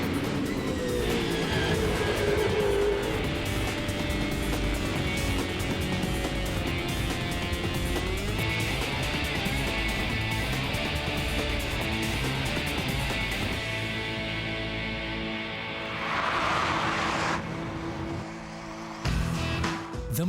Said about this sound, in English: watch some of the world's fastest Mustangs as they hurtle around the famous Superspeedway